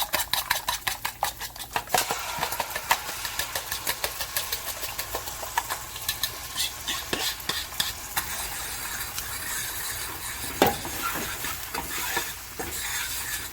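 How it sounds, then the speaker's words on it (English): A fork scrapes and clinks steadily against a frying pan while mixing egg with chorizo for huevos con chorizo, with rapid irregular taps and stirring over a faint background sizzle, close and without any talking. "And I'm using my fork to mix it"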